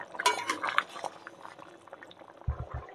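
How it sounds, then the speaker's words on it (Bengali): Curry gravy for chhana paneer with potato and pointed gourd bubbles hard in a pot during village cooking. Close, steady bubbling is mixed with light clinks of a utensil and a few soft thuds at the end. "তো ঝোলটা টকবক করে ফুটে উঠেছে।"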